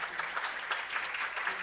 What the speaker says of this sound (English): a round of applause for Viviana